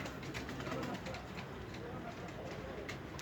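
Soft pigeon coos and cooing calls rise from many birds inside a pigeon loft, quiet and continuous, with a faint murmur of voices in the background.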